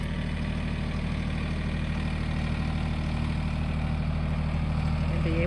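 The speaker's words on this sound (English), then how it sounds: "So take the tractor and pull it taut." A tractor engine idles with a steady low rumble while pulling fencing wire taut on a farm, a continuous droning hum with no talk over it.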